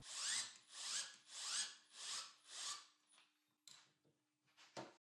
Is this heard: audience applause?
no